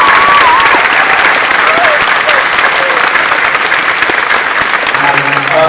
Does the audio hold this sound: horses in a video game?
no